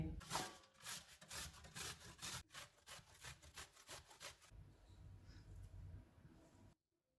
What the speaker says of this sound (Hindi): इनको कद्दूकस करेंगे